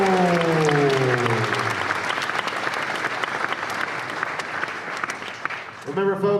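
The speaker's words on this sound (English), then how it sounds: "please give a warm round of applause, team Smart Press" An audience at a hackathon claps in sustained applause, loud and dense from start to finish, while a voice carries over the clapping at the beginning and again at the end.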